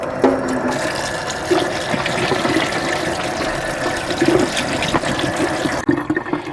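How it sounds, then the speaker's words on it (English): Cooked kidney beans and black beans being rinsed under running water for a bean salad, a steady rushing splash filling the kitchen with small shifts in flow throughout. "The beans are all cooked. I'm going to give them a good rinse."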